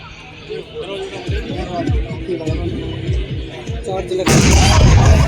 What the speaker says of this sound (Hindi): डेमोलिशन स्पेशलिस्ट एक कॉम्पैक्ट डोर ब्रीचिंग चार्ज तेजी से लगाते हैं।